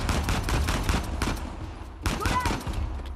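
Rapid bursts of gunfire in the video game Uncharted: The Lost Legacy, dense loud cracks crowding together in a fusillade, with game noise in between and a brief high whistle midway.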